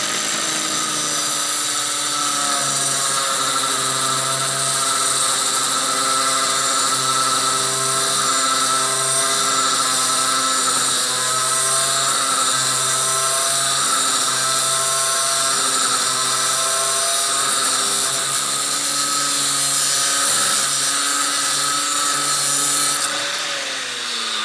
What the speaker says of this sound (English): So we got to cut this axle in half.